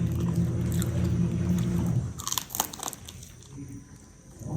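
Crunchy Filipino bingka bitten and chewed up close: a steady low background first, then a cluster of sharp crisp crunches and chewing sounds, fairly loud with no talk.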